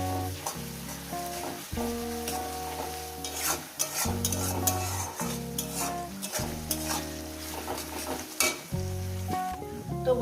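Sliced onions fry in oil with salt for a fish curry, making a continuous sizzle broken by repeated scraping strokes of a spatula stirring the pan, close and fairly loud over a tonal background, with no speech.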